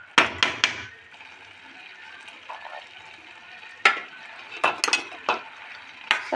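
A spoon clatters against a pan while lentils are stirred and fried, giving several sharp knocks and scrapes over a steady low sizzle at close range.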